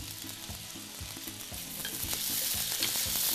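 Ginger sizzles steadily in a hot pan for Cantonese braised pork, with a dense crackling hiss that slowly builds louder and soft rhythmic stirring scrapes throughout, with no talking.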